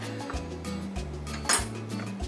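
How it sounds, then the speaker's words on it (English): Fork scraping and clinking against a bowl while stirring pancake batter of black beans and buckwheat, a few short close scrapes and taps with no talk. "And we'll just give this a little stir around."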